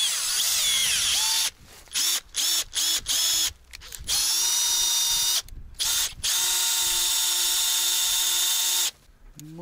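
Power drill boring out a hole in a rubber part on a Kamaz 4310 truck, whining loudly in repeated bursts of varying length separated by short pauses.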